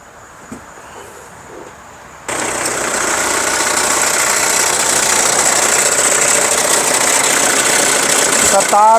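An Isuzu Dragon Eye pickup with a 3100cc engine cranks over and catches, then settles into a loud, steady running rumble close by for the rest of the stretch after a quiet start.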